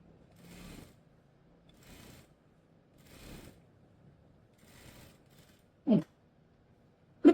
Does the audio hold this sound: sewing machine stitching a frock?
yes